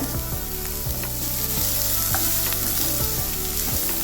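Onions sauté in a pan for a potato curry, a steady loud sizzle and crackle with occasional scraping stirs, close and continuous, no voices.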